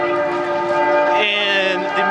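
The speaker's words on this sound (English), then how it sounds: "you hear the St. Peter's Cathedral bells in the background" Church bells of St. Peter's ring over Marienplatz in central Munich, a sustained, loud metallic peal of overlapping tones with rich ringing overtones that fills the square for about two seconds.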